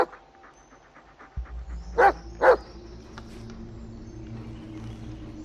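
Dog in the Blair Witch horror video game giving two sharp barks with soft panting and whimpering around them, over a low ambient game drone.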